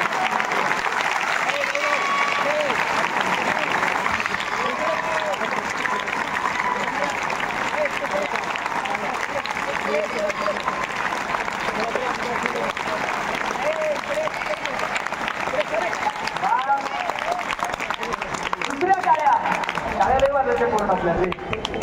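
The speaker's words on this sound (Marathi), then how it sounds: "पहिल्या टाळ्या आपण त्यांच्यासाठी वाजवूया" An audience at a social awareness talk in Latur claps in sustained, dense applause for over twenty seconds, a steady roar of hands that swells near the end.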